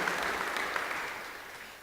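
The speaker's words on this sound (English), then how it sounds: "That applause is for Jim, I'm well aware." Sustained audience applause filling the chamber of the Pennsylvania House, a steady dense wash of clapping hands that holds at an even level for the whole stretch with no talk over it.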